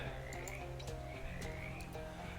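Frogs croak steadily in the video game Shadows Over Loathing, a dense chorus of ribbits with clicky chirps over a constant ambient hum.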